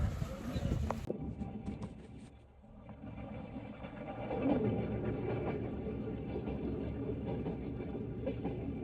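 A passenger train crossing Kazakhstan rumbles on its rails, a steady low drone with faint rhythmic clatter after a brief loud opening burst, filling the clip without voices.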